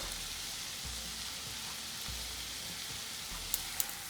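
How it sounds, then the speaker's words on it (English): Garlic, chili flakes, thyme and cilantro sauté in butter in a pan, making a soft, steady sizzle with a few sharp pops toward the end. "Saute everything together in this butter."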